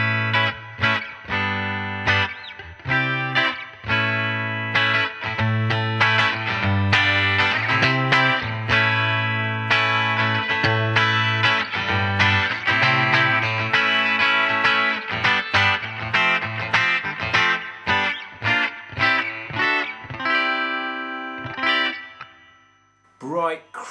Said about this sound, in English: This is the bridge pickup on its own.